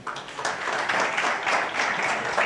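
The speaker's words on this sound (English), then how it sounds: "Another round of applause." Applause from an audience at a youth summit in Africa, a dense steady wash of many hands clapping close and loud for the full stretch, with no voices standing out.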